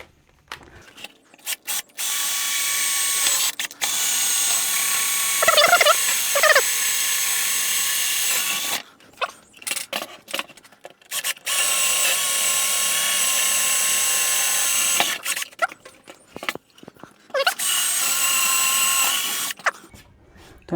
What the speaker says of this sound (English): So now I'm going to drill through these bits.